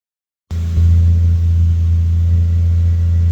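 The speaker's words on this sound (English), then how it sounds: "Started up the car" Nissan R32 GTR engine cranking and catching after a moment of silence, then settling into a loud, steady low rumbling idle close by, with no voices.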